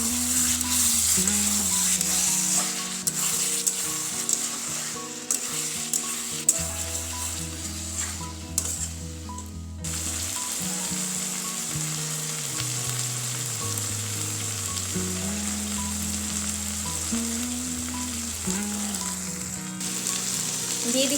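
Masala spices fry in oil in an uncovered pan for a chicken curry, a steady close sizzle that runs throughout with little change, while a low musical tone plays quietly underneath.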